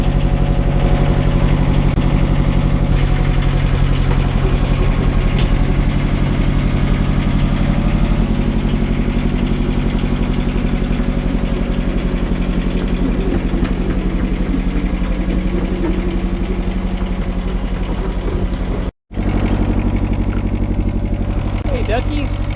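A repaired mini excavator's engine runs loud and close in a steady, rumbling idle with a knocking vibration, broken by one brief cutout near the end.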